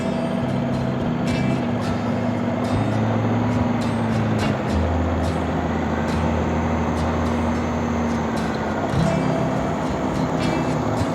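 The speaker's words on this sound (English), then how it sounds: "Let's see how my brother will drive in between the wooden blocks in reverse gear." A four-wheeler light motor vehicle reversing between wooden blocks during an RTO driving test in Port Blair, Andaman: a steady low engine drone with shifting pitch as the revs change, sustained throughout with faint outdoor background noise.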